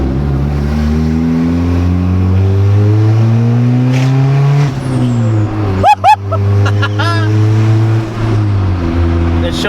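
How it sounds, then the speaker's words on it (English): A boosted EG car engine idles and revs with a steady low drone, rising and falling in pitch, while a quick fluttery turbo sound cuts in briefly partway through; nearby voices talk over the engine. "You hear the turbo like flutter?"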